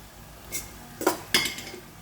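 Fried vegetables and rice tipped into a wok, heard as a few sharp metallic clinks and scrapes of a utensil against the pan, spaced out over about two seconds in a quiet kitchen.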